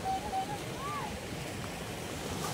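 Wind blows across a beach at San Juan, La Union, a steady broadband rush of air and surf with faint tonal whistles near the start.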